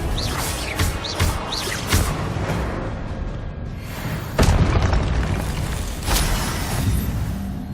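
Confringo explosive spell cast in the Hogwarts Legacy game, a string of heavy booming blasts and bursts with whooshes between them, loud and close.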